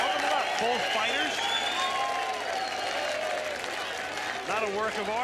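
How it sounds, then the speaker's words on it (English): A boxing arena crowd applauds both fighters at the final bell, a sustained wash of clapping and cheering under a commentator's continuous talk. "Crowd salutes both fighters."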